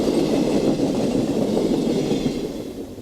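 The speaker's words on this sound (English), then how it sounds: "Amtrak's eastbound Empire Builder drifts silently down grade along Underwood Parkway" An eastbound Amtrak Empire Builder drifts down grade along Underwood Parkway, a steady broad rumble of railcars rolling past close by, with faint wheel clatter that eases slightly toward the end.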